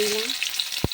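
Onion tempering in hot oil sizzles loudly in a pan alongside panch phoron, broken by one sharp knock of the stirring spoon near the end.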